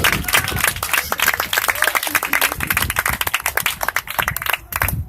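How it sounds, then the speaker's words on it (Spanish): A church congregation applauds during a sermon, dense sustained clapping from many hands filling the room, fairly loud, with a brief lull near the end. "Denle un fuerte aplauso al Señor."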